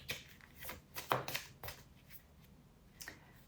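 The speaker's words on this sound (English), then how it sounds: "I just felt called to shuffle these and then to stop." Tarot cards being shuffled close by, a few quick crisp riffling bursts and soft slaps spread over a few seconds, fairly quiet with no talking.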